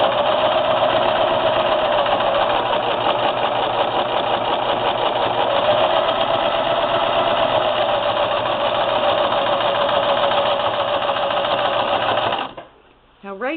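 A sewing machine runs continuously, quilting layered patchwork placemat pieces, its motor humming at a loud, even drone for about twelve seconds before stopping abruptly, followed by a brief faint rattle.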